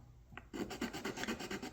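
A file rasps rhythmically across the wood planking of a model sailing pram in quick back-and-forth strokes, close and clear, after a brief quiet start.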